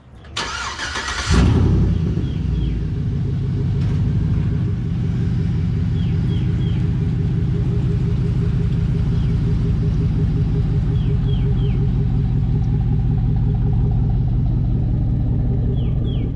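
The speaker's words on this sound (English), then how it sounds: "let's go ahead and get the truck inside" A pickup truck being driven into a garage before a CV axle replacement: a brief starting burst, then a steady, loud engine rumble idling and moving at close range, with faint chirps in the background.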